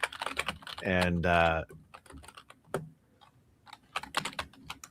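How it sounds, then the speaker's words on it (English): Typing on a computer keyboard: quick irregular bursts of clicking keystrokes, close and clear, with a brief stretch of voice partway through and sparse isolated taps in the quieter middle. "I'll wait till you're done typing before I keep talking."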